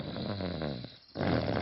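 Cartoon snoring from Daddy Pig, drawn-out rumbling breaths in, a brief quiet pause, then another loud snore, voiced by an actor imitating the sound.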